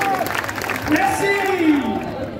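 A crowd at a Japan Tours Festival TV-theme-song party breaks into applause, clapping steadily under a sung or shouted voice that dominates the short stretch.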